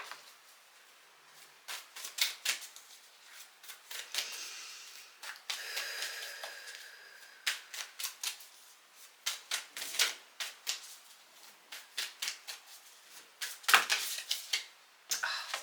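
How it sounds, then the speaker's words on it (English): Rapid bursts of riffling tarot card shuffles, crisp and close, repeating in quick flurries with short pauses between them. "Let's just give this another shuffle."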